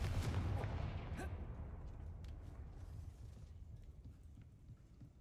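Confringo blasting spell going off in the video game Hogwarts Legacy: a loud explosive boom with a sharp crack, then a long rumbling tail that slowly fades.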